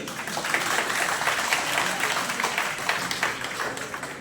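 Audience of medical interns in an orientation hall applauding, a steady dense patter of many hands clapping at moderate loudness for the whole stretch, with no voices over it.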